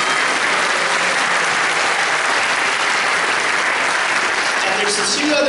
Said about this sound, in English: Can we get a big round of applause for Peter?